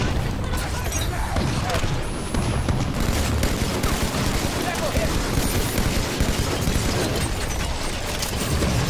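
Heavy, continuous gunfire and booms from a Halo multiplayer match come in dense rapid bursts throughout, with players talking over the shooting.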